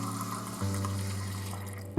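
Tap water pouring into the water canister of a drip coffee maker, a steady close splashing fill that deepens in pitch as the container fills, ending with a brief clunk.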